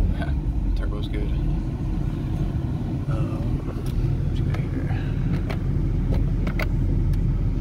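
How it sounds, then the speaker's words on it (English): A 2016 Ford F350 truck accelerating with turbo boost: a steady, close engine rumble that stays loud throughout, with a person talking over it. "Get a little bit of boost built up in drive."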